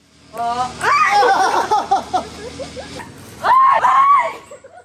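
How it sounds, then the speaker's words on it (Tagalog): Several voices shriek and shout in excited bursts, loud and close, with a second piercing scream near the end, at a table tennis game played on rocks in Jimenez, Misamis Occidental. "Ang daming hiyaw."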